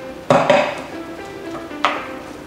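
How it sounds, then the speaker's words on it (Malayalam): Plum cake batter with caramel is mixed in a bowl, with two sharp utensil knocks against the bowl over a low, steady scraping background. "ഇനി അതൊന്ന് മിക്സ് ചെയ്ത് കൊടുക്കാം."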